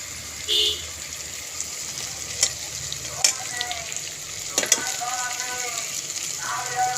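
Onions and spices sizzling steadily in a hot pan for fish curry, with a few brief clinks and scrapes of a spoon stirring, close by, no one speaking.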